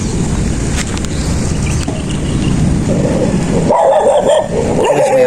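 A dog barks several times in the latter part of the clip, outdoors beside an old Spanish-era road in Bauang, La Union, over steady background noise and traffic-like rumble.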